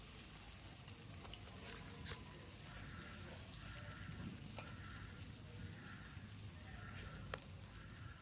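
About 200 grams of chopped onions fry gently in oil over low heat with a little ground cinnamon, giving a steady soft sizzle. A few brief sharp clicks, like stirring against the pan, break through at intervals, and no one speaks.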